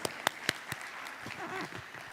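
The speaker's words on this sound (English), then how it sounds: "Let's give Ambassador Barini another round of applause." Audience applause at a formal diplomatic event in Kenya, a few sharp claps at first and then a broader, softer patter of clapping. A voice speaks over the clapping.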